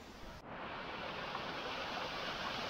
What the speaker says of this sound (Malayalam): ചെറിയൊരു വെള്ളച്ചാട്ടത്തിൻ്റെ അവിടെ എത്തി,